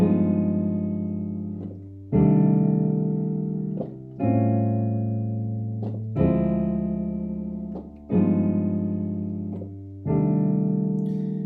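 Four sustained keyboard chords of a minor ii-V-i-vi progression repeat in a steady cycle. Each one changes at a regular two-second pace and rings out before the next begins, with no talking.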